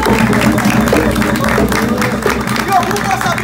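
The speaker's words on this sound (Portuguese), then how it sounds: "Palmas para Ogum!" Worshippers clap for Ogum during a religious chant, loud, dense clapping mixed with crowd voices and singing in a lively gathering.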